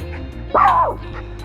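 Milo the dog gives a single short, sharp bark close by, rising then falling in pitch, over a quiet background.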